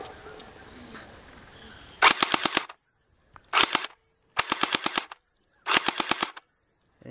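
A P90 water gel blaster gun fires in four rapid bursts of sharp clicking shots, each burst a quick rattling string of five or six pops separated by short silences, close and loud.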